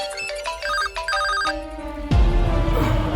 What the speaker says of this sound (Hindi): सबके फोन बज रहे हैं बे